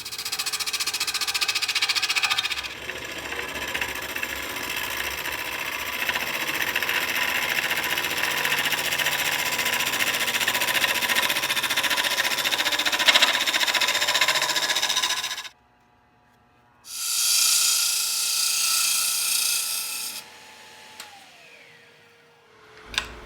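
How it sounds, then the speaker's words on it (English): A wood lathe turning Norfolk Island pine while a tool cuts and trims the spinning blank, a loud, steady hissing whir up close that drops out abruptly, returns briefly, then fades to a low hum. "I'm cutting away here, just trimming along with no worries in the world"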